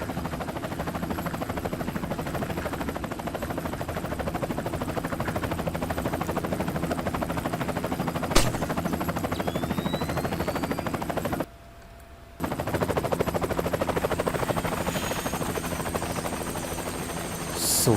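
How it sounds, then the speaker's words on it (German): A helicopter in the stealth video game Splinter Cell: Chaos Theory gives a steady, loud rotor drone that runs through the whole stretch, with a sharp crack partway and a brief dropout near the end. "So, also hier ein Hubschrauber."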